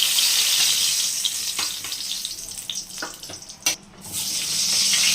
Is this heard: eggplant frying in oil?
yes